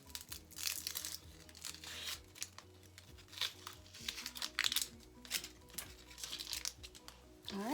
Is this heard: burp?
no